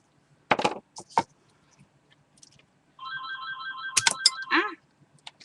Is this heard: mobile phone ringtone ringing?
yes